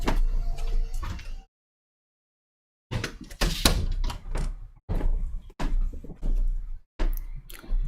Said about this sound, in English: I'm just gonna close my door